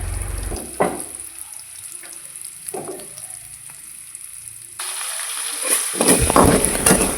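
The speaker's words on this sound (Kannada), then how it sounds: "ಅದಕ್ಕೆ ಉಳ್ಳಾಗಡ್ಡಿ ಮತ್ತು ಹಸಿಮೆಣ್ಸಿನ್ಕಾಯಿ ಹಾಕ್ಕೋಬೇಕ್ರಿ. ಅವನ್ನ ಹಾಕ್ಕೊಂಡು ಫ್ರೈ ಮಾಡ್ಕೋಬೇಕು" Onions and green chillies frying in a home kitchen pan, a soft steady sizzle broken by a few stirring scrapes, with a louder burst of hissing and clatter near the end.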